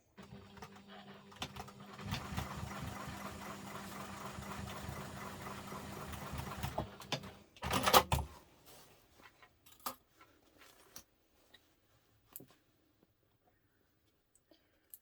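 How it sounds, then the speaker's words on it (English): Domestic sewing machine stitching across a chalk line on an urban messenger diaper bag, a steady rapid mechanical whir for about seven seconds, then a sharp clack and a few scattered clicks as it stops. "And there, you've sewn that on."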